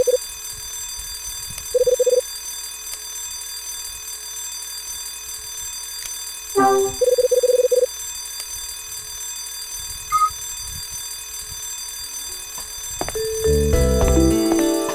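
A video game alarm goes off in a restricted area of a hotel, sounding in short repeated electronic bursts over a steady background hum, with a louder clattering burst near the end.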